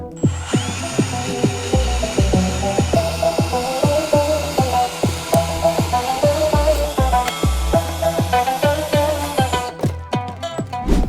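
A power tool cuts through a solid brass angle valve, a loud close whine pulsing in rapid regular bursts as the blade bites the metal, ending in a few sharp clinks.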